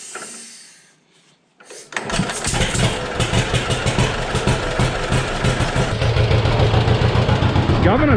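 An engine powering a lag bed planer as it catches and starts: a brief quiet, then a steady, close, chugging mechanical rumble with rhythmic pulses that keeps running to the end.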